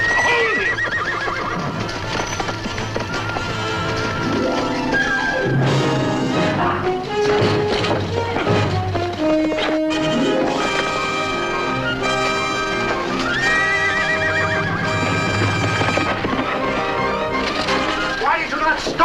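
A horse neighs and its hooves clip-clop loudly amid a dramatic film scene, with shouting voices and music running throughout.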